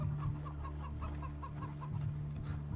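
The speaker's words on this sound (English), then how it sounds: "Oh no! I killed a chicken!" A chicken in the video game Far Cry 3 clucks in a quick, steady run of short, close calls. The clucking plays over a constant low in-game background hum, with no talk.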